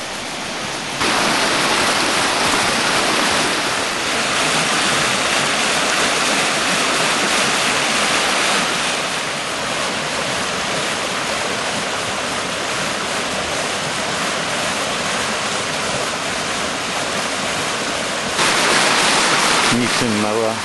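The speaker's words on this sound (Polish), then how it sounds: "Widoczek sielski, ale rwący potok" Continuous roaring rush of fast-flowing water, loud and steady throughout, like a churning mountain stream close by.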